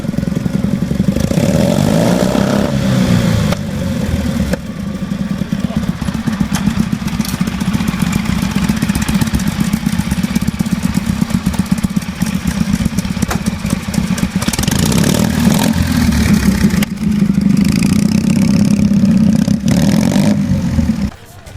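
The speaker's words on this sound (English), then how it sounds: "a festival like this is going to attract the hot rods of tractors" Antique tractor engines run loud and close at an outdoor gas engine festival, a continuous rough low chugging with rapid firing pulses that swell and fade as machines pass. Voices murmur faintly underneath.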